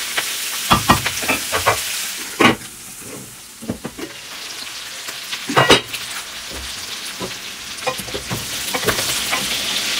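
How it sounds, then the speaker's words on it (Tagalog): Onion and garlic fry in a pan with a continuous close sizzle, punctuated by scraping stirs and clatters of a utensil against the pan, with no voices. "Palutuin muna natin yung onion at saka garlic."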